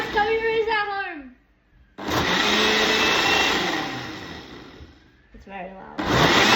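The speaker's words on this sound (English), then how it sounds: "start and ultra blend" A blender set to its ultra blend program whirs loudly while making a kid-friendly smoothie. A voice speaks first, then a steady roaring whine runs for a few seconds, dips briefly, and surges again.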